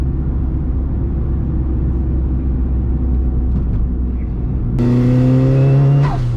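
A Mitsubishi Evo accelerating as turbo boost builds, a loud low engine drone from the cabin that rises sharply near the end with climbing pitch and a brief whistle, with no talk.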